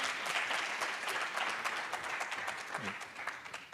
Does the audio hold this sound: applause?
yes